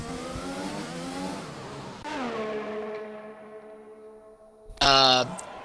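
A Williams race car's engine droning as it pulls into the pits, the pitch sliding down as it slows, then a sharp rising rev burst near the end.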